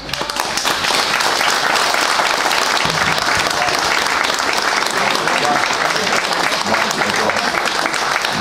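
A crowd at a 2004 fire truck handover in Križ claps loudly and continuously, dense applause filling the whole stretch with some murmuring voices underneath.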